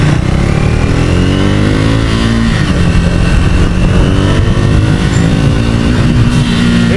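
A Triumph Thruxton 400 motorcycle engine drones loudly and steadily while riding, its pitch rising and falling slightly with throttle over a constant rush of wind, close and continuous throughout.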